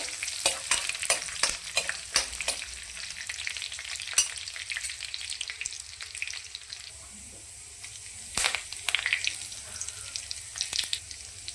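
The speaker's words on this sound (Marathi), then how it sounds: "त्यानंतर बारीक केलेला लसूण। हे सर्व चांगलं फ्राय करून घेऊया।" Finely chopped garlic fries in a pan for Maharashtrian matki usal, a close, steady sizzle broken by sharp crackles and pops, with occasional stirring scrapes and brief bursts of spitting oil.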